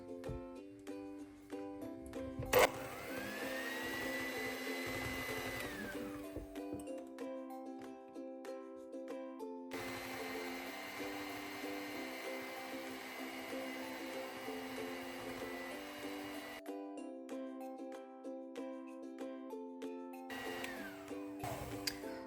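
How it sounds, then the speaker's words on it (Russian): An electric hand mixer runs on its lowest speed through cake batter, a steady whirring drone with pauses between stretches and occasional clinks against the bowl, with no talk. "Миксер у нас стоит на самой низкой скорости."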